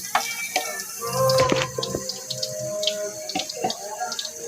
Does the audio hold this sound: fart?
no